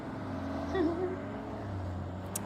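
A car engine hums steadily in BGMI, the mobile battle royale game, a low rumble with a brief swell, moderately loud under a faint voice.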